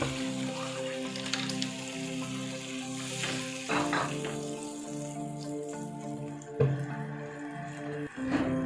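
About a cup of pre-boiled water goes into the hot pan of dhokli salan gravy, giving a bright sizzle and bubbling over a steady tonal hum, with a few louder splashy bursts toward the end.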